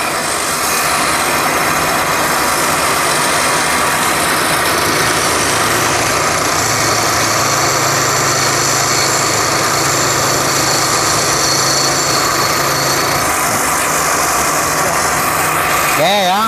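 A small engine starts and idles right after its camshaft timing has been set by hand, a steady close running drone with a buzzy high edge holding throughout, no talk over it.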